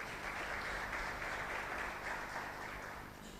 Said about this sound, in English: A big round of applause for those mentors.